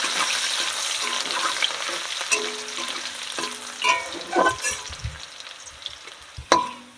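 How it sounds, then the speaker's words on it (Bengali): Crushed garlic frying in hot oil in a village kitchen: a continuous crackling sizzle with occasional spatula knocks and stirring scrapes, louder bursts toward the end, no voices. "থেতো করা রসুনটা দিয়ে দিলাম তো রসুনটা একটু ভেজে নেবো আগে"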